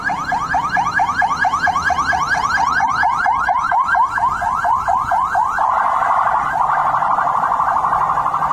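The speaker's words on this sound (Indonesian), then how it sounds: "Mobil ambulans." A video-game ambulance siren wails loudly and steadily on its own, a fast rising two-tone warble that shifts partway through into a held, unbroken tone.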